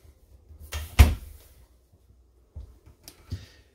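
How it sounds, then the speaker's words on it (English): Sliding pocket door with a small magnetic catch in a 2020 Salem Hemisphere 308RL travel trailer bedroom, giving one sharp knock near one second, followed by a couple of fainter soft bumps. "The bedroom has a sliding pocket door that's got a little magnetic catch on it there"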